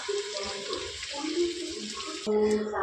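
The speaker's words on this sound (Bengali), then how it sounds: "এর মধ্যে আমি ঝোলের জন্য জল দিয়ে দেবো" Water runs from a tap into a pot of pumpkin and potato curry, a close steady splashing stream that shifts pitch as the pot fills, with brief background talk.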